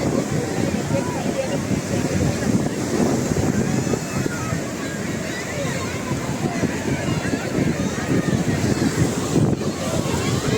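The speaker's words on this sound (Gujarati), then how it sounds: "મસ્ત મજાનો દરિયો છે ભાઈ" Steady surf and wind buffeting the microphone at Shivrajpur beach near Dwarka, a continuous loud wash of sea waves with no clear breaks.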